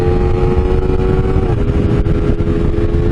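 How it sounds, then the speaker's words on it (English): A Honda CBR 250RR motorcycle engine runs loud and close at high revs, a dense buzzing drone with a slight dip in pitch midway, as if riding hard under load. "I definitely have to ring the hell out of this bike to get the power."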